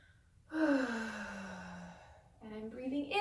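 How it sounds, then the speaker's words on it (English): A long, breathy exhale during a relaxing yoga session, voiced and sighing as it slowly falls away, followed by a shorter rising breath a moment later, close to the microphone in a quiet room. "Now I'm breathing out."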